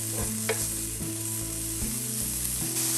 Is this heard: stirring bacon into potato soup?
yes